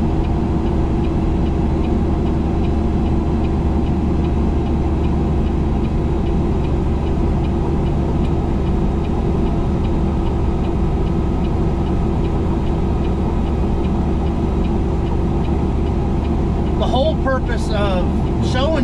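A bus coasts downhill with the brake released, engine holding around 1350 rpm at 18 mph, producing a steady low drone throughout, with a few light ticks near the end.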